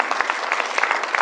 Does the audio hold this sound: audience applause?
yes